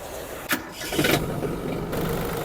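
A Yanmar F210 tractor's 21-horsepower three-cylinder diesel engine cranks and catches with a sharp burst, then settles into a steady, rough mid-pitched idle close by.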